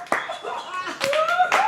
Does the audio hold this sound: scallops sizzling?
no